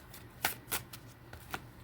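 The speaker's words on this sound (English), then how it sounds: "Another little shuffle." A deck of playing cards riffle-shuffled in several quick, crisp bursts close by, with short pauses between them and no talking.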